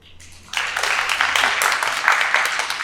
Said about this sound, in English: Y'all can clap for everybody.